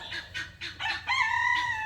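Backyard chickens, including broody hens, cluck in a quick series of close, loud calls that rise into a longer drawn-out cackle, with no talk over it.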